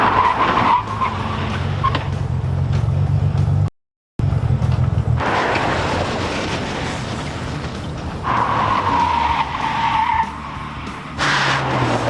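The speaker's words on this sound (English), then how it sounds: "On his braking run, remind him he actually has to stop." An Integra Type R braking hard from 60 mph in a 60-0 stopping test, a loud tire skid and squeal over engine roar in a few separate runs split by a short gap.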